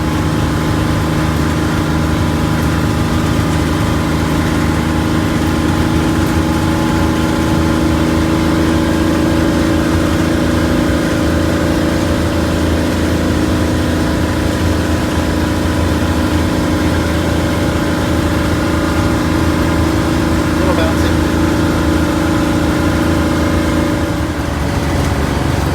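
Loud, steady engine drone heard from inside a 1947 Greyhound bus cruising on the road, a constant low rumble with a mid-range hum and no breaks, with no one speaking.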